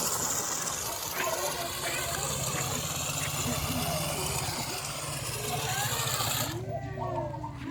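A small RC crawler motor whines steadily as the toy crawls over sandy ground, a continuous buzzing hum with faint voices nearby, cutting out abruptly near the end.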